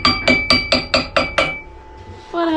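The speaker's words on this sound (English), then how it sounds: "What started as friendly fire turned into aggressive hammering." Seven sharp metallic hammer blows on a seized boat windlass ring out in a steady, rapid rhythm, close and loud, followed by a brief lull and a ringing tone.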